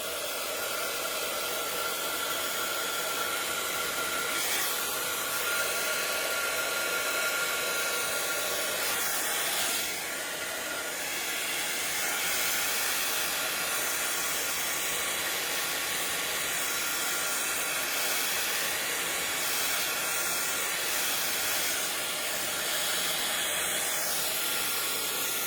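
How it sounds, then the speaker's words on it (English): A heat tool blows continuously over wet paint, a steady close hiss of air with slight shifts in intensity and no talk. "You can even move some of it around with your heat tool."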